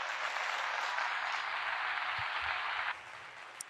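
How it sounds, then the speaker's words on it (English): A crowd claps in a sustained round of applause, dense and even for about three seconds before cutting off abruptly into quiet. "Round of applause for that."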